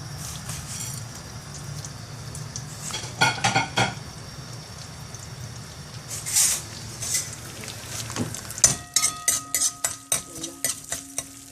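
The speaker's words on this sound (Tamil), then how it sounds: "தேங்காய் பூவை இந்த மாவுலேயே போட்டு கரைச்சிக்கணும்" Grated coconut being stirred into pearl millet batter in a bowl, a steady wet scraping and swishing with spoon clinks, ending in a run of sharper rhythmic taps against the vessel; close and moderately loud, with no talking.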